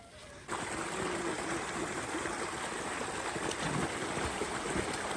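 River water rushes steadily during drag-net fishing, a dense continuous wash that starts abruptly after a brief quieter moment and stays even and fairly close.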